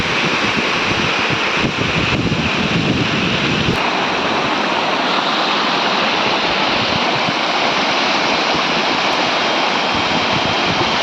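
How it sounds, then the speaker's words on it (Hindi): Bandakund waterfall, water plunging fifty to sixty feet, roars loud and continuous at close range, a steady broadband rush that drops slightly in low rumble partway through. "पचास 60 फुट रू पानी पड़ुची"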